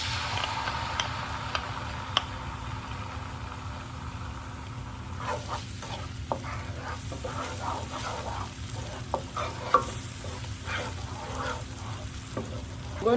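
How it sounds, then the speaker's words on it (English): Tomato paste fries in a pot for jollof rice with a steady soft sizzle, stirred now and then with scattered ticks and scrapes, no talk. "I'm going to go ahead and add my tomato paste."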